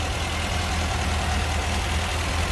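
A 1975 MG MGB Convertible engine idles steadily and fairly close, with a deep rumbling hum that holds constant without revving.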